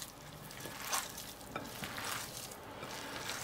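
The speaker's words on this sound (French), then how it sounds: "je vais mélanger tout ça avec les mains" Minced meat stuffing being kneaded and mixed by hand for stuffed onions, a soft, wet squelching and slapping that comes in uneven pulses, fairly quiet and close, with no talking.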